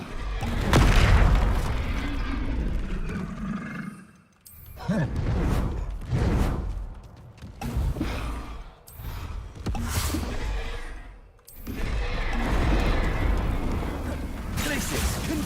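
Confringo and Bombarda spell blasts go off in the video game Hogwarts Legacy, heavy booming explosions with whooshing bursts that come in loud, dense waves with short quiet gaps between them.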